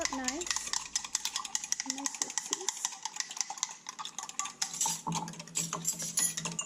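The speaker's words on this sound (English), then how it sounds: "I'm going to get a little spoon here, a little fork, and I'm going to just lift that up nice." A spoon and fork scrape and clink against a dish while vegan agar-agar jello is stirred and lifted, with close, irregular metallic taps and scrapes throughout and no talking.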